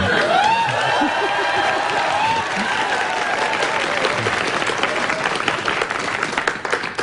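Studio audience at a live public broadcast of a Korean morning news talk show applauds steadily, a dense wash of clapping that starts loud and gradually thins and fades toward the end, with a voice briefly audible over it.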